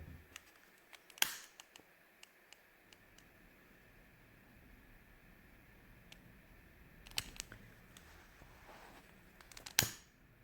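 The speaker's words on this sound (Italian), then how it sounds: "Prenda un accendino" A handheld lighter clicks over UV resin in a pendant mold, a few sharp isolated snaps spread across an otherwise quiet, faintly hissing background, with a pair of clicks near the start and two more toward the end.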